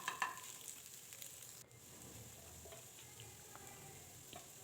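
Egg and vegetable chowmein with beans, carrots, egg and boiled noodles frying together in a pan: a steady, close sizzle with a few utensil clanks near the start and no talking.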